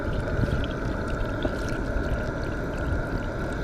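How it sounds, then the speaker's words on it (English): Beef broth being poured into an MSR Windburner 2.5L camping stove pot, a steady continuous liquid pour with a constant rushing texture, close and fairly loud, without talk. "get this beef broth going. We'll just pour that in there nice and juicy."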